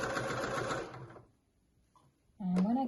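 A sewing machine stitches a seam on an indigo dress in a quick, even whir, then stops for a brief pause before a voice begins talking.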